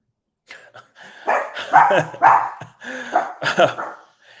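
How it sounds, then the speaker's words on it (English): A dog barking nearby, a quick run of sharp yips and barks in uneven bursts, loud and close, with brief whimper-like sounds between them. "My dog's barking"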